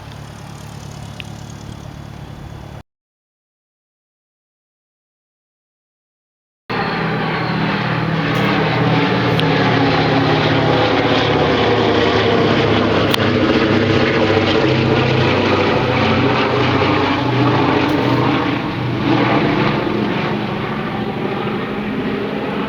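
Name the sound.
Boeing B-17 bomber aircraft flying overhead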